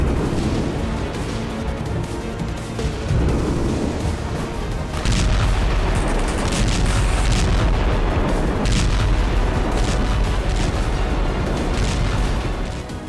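Booming, roaring rush of a North Korean ballistic missile launch, a sustained loud rumble that swells partway through, with bursts of crackle layered over the continuous thunder.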